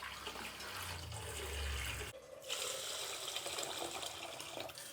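Soaked rice being washed by hand in water for dosa batter, close sloshing and running water with a low swirling rumble at first, then lighter splashing and trickling, no voices.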